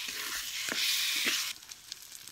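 Cashews frying in oil, a close, steady hiss with a few soft stirring knocks that drops noticeably quieter partway through, with no talking.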